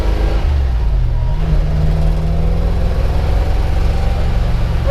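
A 1940 Ford coupe engine revs and pulls steadily in first gear, a loud, close droning rise in pitch with no talking.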